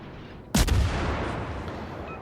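A single loud warship gun salvo from World of Warships, fired from the destroyer Tashkent at a fleeing ship, booms sharply at once and then trails off into a long rumbling decay.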